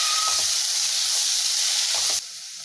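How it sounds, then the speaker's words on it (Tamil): Tomatoes sautéing in a pan with curry leaves, a loud, even, close hiss of hot oil with a couple of soft stirring thuds, dropping suddenly quieter near the end. "தக்காளி போட்டு நல்லா வதக்கிக்கணும்"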